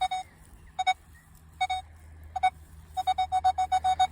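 Nokta Makro Legend metal detector signalling on a target: a series of sharp electronic beeps, a few spaced single tones, then a rapid run of repeated beeps near the end, with no voices.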